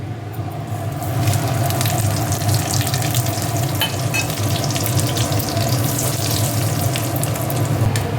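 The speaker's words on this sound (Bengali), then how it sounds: "একটু জিরা একটা শুকনো লঙ্কা একটা তেজপাতা ফাটিয়ে নিয়েছি" Cumin seeds, a dried chili and a bay leaf sizzle in hot oil, producing a loud, close, steady frying hiss with crackling spatters and a low rumbling undertone.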